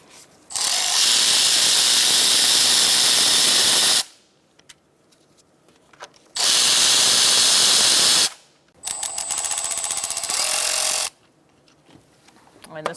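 A power ratchet spins a 10mm socket to remove the plastic engine cover on a 2002-2006 Honda CR-V 2.4L, three loud whirring bursts with quiet gaps between them.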